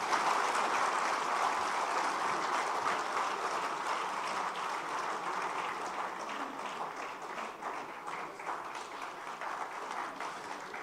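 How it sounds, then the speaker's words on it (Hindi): Sustained applause from an audience at a literary awards ceremony, greeting author Piyush Mishra. The clapping holds at steady strength for about eleven seconds, thinning only slightly toward the end, with no voice over it. "पीयूष मिश्रा के लिए जोरदार तालियों के साथ।"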